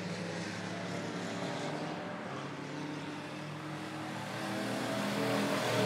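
Race cars circle a speedway track at Monett Motor Speedway, a steady engine roar that holds even and continuous and swells slightly louder toward the end, with no talk over it.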